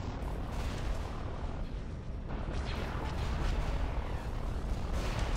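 Constant space battle explosions from a Star Wars strategy game, a dense, heavy roar of overlapping booms and rumbling blasts with no clear gaps, loud and sustained throughout.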